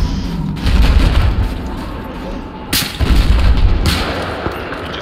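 Gunfire in Battlefield 4, heavy booming bursts of shots in two clusters over a rumbling battlefield background, loud and close.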